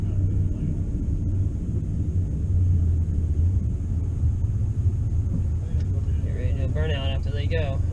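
Two Chevrolet Camaro SS cars street racing produce a steady, heavy low engine rumble throughout, with a voice talking briefly near the end.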